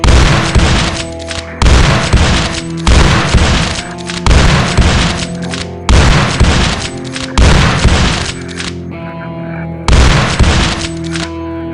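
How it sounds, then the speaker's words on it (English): Guns fire in a programmed video game in six or seven regular loud booming volleys, each a sharp blast with a ringing tail, evenly spaced about one and a half seconds apart. "we need to make it so that we only fire one gun at a time. Right now, our messages go out to all 3 guns at the same time"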